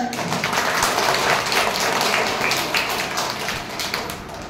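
Audience clapping fills the hall at a school Teacher's Day celebration, a dense, steady burst of applause that holds for the whole stretch with no voices over it.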